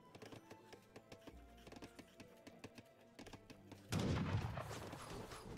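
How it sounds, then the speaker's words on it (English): Scattered musket volleys crack in a battle in the strategy game Age of Empires III, a string of short sharp pops spaced irregularly, then swelling into a louder, denser clash of fighting near the end. "Get some early shots off."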